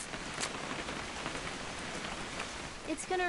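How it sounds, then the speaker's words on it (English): Steady rain falling on surfaces, a soft continuous patter with a few louder drops, heard as a constant background while a voice briefly speaks near the end. "It's gonna rain the whole weekend"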